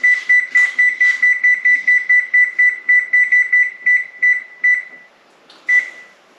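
An oven's electronic timer gives a rapid run of about twenty short, identical beeps, close and clear, as the cook time is entered. After a brief pause, one last beep sounds alone.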